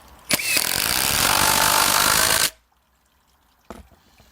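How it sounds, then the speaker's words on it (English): A triple hammer impact driver drives a screw in one loud, continuous rattling burst of about two seconds, cutting off sharply, with brief clicks just before and a faint knock afterward. "And now the triple hammer."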